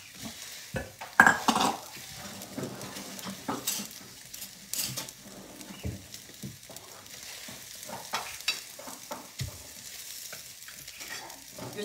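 Rice is reheated in a pan, with a soft sizzle under repeated scraping and clinking of a utensil against the pan in irregular bursts, close and moderately loud.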